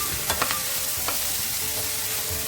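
Onion, ginger and garlic sauté in hot oil in a pan, with a steady close sizzle and a few sharp scrapes of a spatula against the metal near the start.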